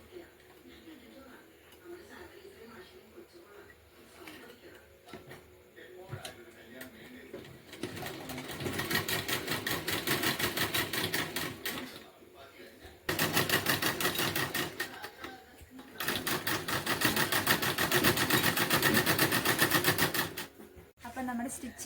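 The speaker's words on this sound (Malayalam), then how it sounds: "അപ്പോൾ നമ്മുടെ ഫ്രോക്ക് കട്ടിങ് കഴിഞ്ഞ് ഇനി നമുക്ക് സ്റ്റിച്ചിങ് ചെയ്യാവേ" A sewing machine stitches a six-panel frock for a six- or seven-year-old girl, running close and loud in two long bursts of rapid, steady needle chatter after a quieter opening, with a short pause between the runs.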